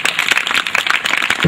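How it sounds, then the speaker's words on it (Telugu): Audience at a church gathering clapping together, a short burst of dense, fairly loud claps lasting about a second and a half. "ఒకసారి చప్పట్లు కొడుతూ"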